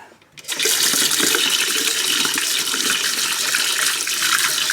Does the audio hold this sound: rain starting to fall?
no